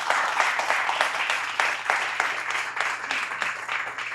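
Applause for a presenter at an investment community session, a steady wash of clapping from a small group, with sharper individual claps standing out over a low mains hum.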